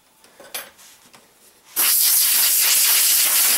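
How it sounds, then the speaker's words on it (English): Compressed air sprays inside a computer's drive bay: after a few quiet knocks and handling sounds, a loud, steady hiss bursts on and runs continuously for about two seconds, close and harsh. "I'm going to open it anyway and I'm going to spray inside a little bit"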